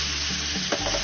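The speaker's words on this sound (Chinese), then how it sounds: "随着煎的过程，咱们可以给它慢慢的翻过来" Food sizzles steadily in a hot pan for a baby's meal, with a soft scrape as it is turned over near the end, close and continuous with no talking.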